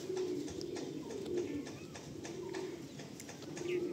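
Madrasi pigeons cooing in a loft at Ranihati, soft repeated low coos close by, overlapping in a steady chorus with faint rustling and a little chirping.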